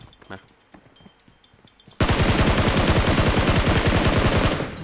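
Rapid automatic gunfire from the PUBG Mobile video game on an iPhone 14 Pro Max bursts in suddenly after quiet and continues loud and sustained for several seconds, with no talk.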